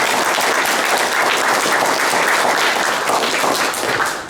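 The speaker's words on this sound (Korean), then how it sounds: "우리가 박수해서 하겠습니다" Sustained applause from a church congregation at a Korean church service in Washington, a dense, steady wash of clapping filling the room for several seconds without pause.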